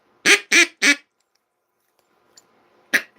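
Homemade duck call blown close and loud indoors, three quick raspy quacks in a row, then a pause and a single louder quack, with no talk.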